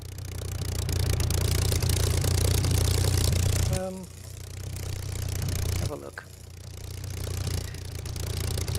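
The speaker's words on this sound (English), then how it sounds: "Listen to that engine." Rolberoulder engine hum of a Merlin-powered aircraft in Microsoft Flight Simulator, a steady low drone that drops out briefly twice and returns, with someone speaking over it.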